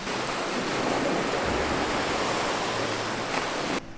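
A steady broadband wash of surf rolls in on an empty naturist beach, loud and unbroken for the whole stretch with no voices, cutting off abruptly at the very end.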